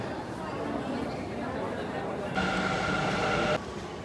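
A crowded metro train on a busy Sunday, with a steady rolling rumble throughout and a brighter, louder tone rising briefly in the middle, with voices and people talking in the background.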